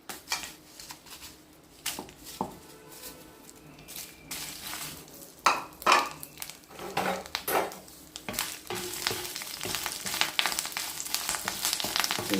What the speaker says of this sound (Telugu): ఎండుమిరపకాయలు కొంచెం వేగాక కొంచెం మనం అప్పుడు కరివేపాకు వేసుకుందాం